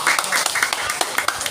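Audience clapping at an evening Islamic dhikr and manaqib gathering, a quick run of scattered, uneven claps close by, overlapping and fairly loud.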